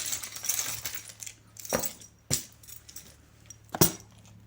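Small metal charms clink and jingle as they are handled, with a few sharp bright taps standing out over a quiet background, with no talking.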